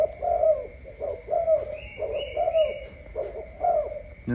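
A pair of imported doves being bred gives repeated deep, rhythmic cooing calls, about seven in a steady sequence, close and clear without talk.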